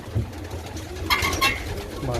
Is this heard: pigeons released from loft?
yes